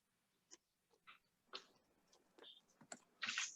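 Typing on a computer keyboard, light irregular clicks and clacks close by in a quiet room, ending in a quick cluster of keystrokes.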